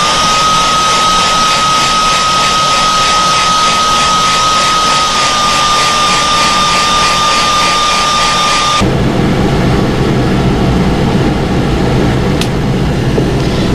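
Heat gun blowing hot air to heat-set material, a loud continuous roaring whoosh with a steady high whine that abruptly shifts to a deeper, fuller blast partway through, close and without speech.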